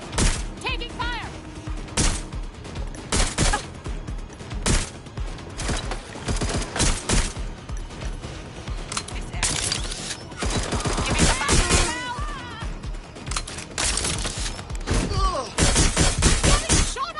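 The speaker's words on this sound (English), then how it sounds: "Getting shot at here." Gunfire in the video game Watch Dogs: Legion, repeated sharp shots and bursts in irregular clusters, loud and close, with impacts and thuds between them and a voice talking over parts.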